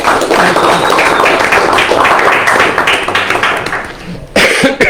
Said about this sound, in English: let's give Patty a round of applause